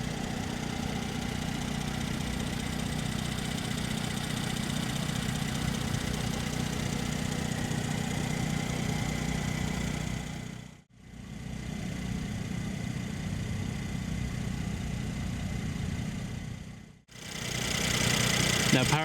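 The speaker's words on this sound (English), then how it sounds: "Now powering the SLC here is a 3-liter bi-turbo V6 engine that produces 362 horsepower" The 3.0-litre twin-turbo V6 of a 2017 Mercedes-Benz SLC43 AMG idles in a steady, close, low hum. The sound cuts out briefly twice, then returns.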